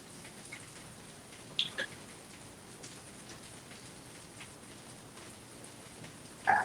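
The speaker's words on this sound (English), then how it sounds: "looks like rain" Steady rain falls outdoors at night, a soft continuous patter with a couple of brief louder knocks.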